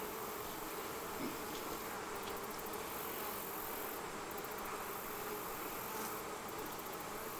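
Honey bees swarming around a hive that has been moved in a fall bee yard, a dense continuous buzz of many insects close by, steady and without talk.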